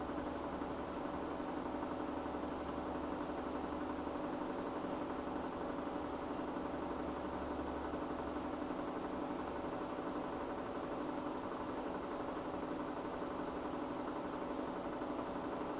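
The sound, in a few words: motor running in vibration experiment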